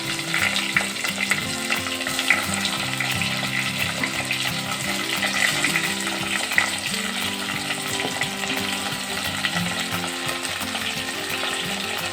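Raw banana pieces frying in hot oil give off a steady, dense sizzle with crackling pops and occasional stirring scrapes throughout, close and continuous.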